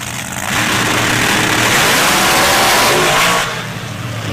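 A 2000 Chevy S10 drag truck with a 572 cubic inch big block Chevy and a 14-71 high helix blower at a drag race, its loud engine roar swelling in, holding for about three seconds, then dropping away.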